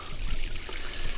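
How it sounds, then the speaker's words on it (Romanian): Water from a hose running steadily into a new inflatable backyard pool, a continuous soft trickling and splashing rush with no talk over it. "Și am dat drumul la apă"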